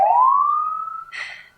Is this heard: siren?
yes